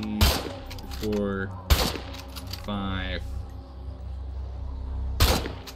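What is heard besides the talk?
gunfire from many shots in State of Decay 2 video game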